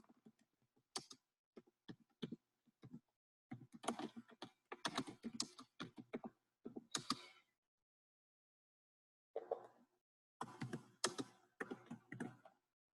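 Bursts of typing on a computer keyboard, with clusters of rapid clicky keystrokes broken by short pauses and a longer silent gap partway through, close and fairly quiet.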